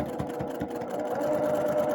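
A sewing machine with a curved presser foot backstitches a seam on an NY Beauty quilt, giving a steady, close whirring hum with rapid stitch pulses running continuously.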